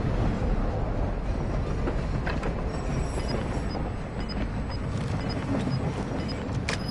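A moving train in the Call of Duty Warzone 2 video game gives a loud, steady rumbling roar with faint clicks and rattles over it, heard alone without talk.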